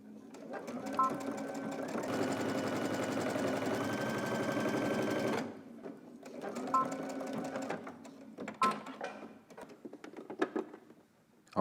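A sewing machine stitching a tank top neckline, running in a steady whirring burst of a few seconds, then shorter stop-start runs with clicks and handling noises between.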